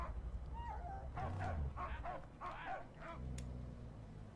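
A dog in the Mad Max video game gives a series of short barks and yips, with a few whimpery notes, spaced irregularly over a few seconds at moderate volume.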